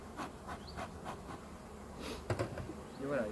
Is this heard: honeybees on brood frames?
yes